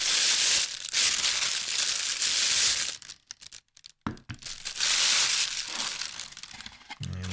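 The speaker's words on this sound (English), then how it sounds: "I'm going to make a rustling noise for a sec." Crinkly plastic packaging is rustled and crumpled up close in loud bursts, with a brief quiet gap midway before the crackling resumes.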